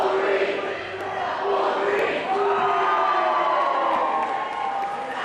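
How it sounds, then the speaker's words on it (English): Spectators at a junior girls' volleyball city final, level in a tense first set, cheer and whoop loudly in a sustained roar, shrill young voices rising in waves across the gym. "As you can hear the crowd quite fired up."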